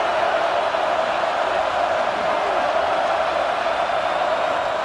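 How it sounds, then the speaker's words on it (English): A football stadium crowd at a Penn State versus UConn game roars in a loud, steady, unbroken wall of noise that holds evenly for several seconds with no distinct voices standing out. "Listen to this crowd just shaking the girders of this place"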